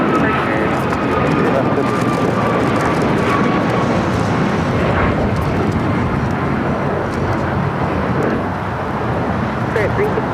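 Airliner taking off from a runway at LAX, a loud broadband jet roar that holds steady for the whole stretch, mixed with airport and traffic background.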